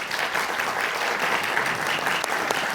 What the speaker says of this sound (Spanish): les damos un aplauso otra vez